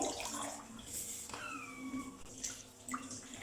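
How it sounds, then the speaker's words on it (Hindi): Water splashes and trickles as it is poured from one bowl into another during a children's activity, a soft, close pouring sound with light drips. "अब इस बॉल से बच्चा पानी दूसरे बॉल में डालें।"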